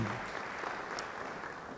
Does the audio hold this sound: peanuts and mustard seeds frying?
no